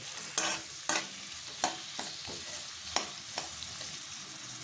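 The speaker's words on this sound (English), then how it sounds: "fry it till it browns. It has to get golden brown." Onions frying in a pan for chicken tikka masala, a steady sizzle broken by sharp, periodic scrapes and clacks of a spatula stirring them, close and fairly quiet, with no talking.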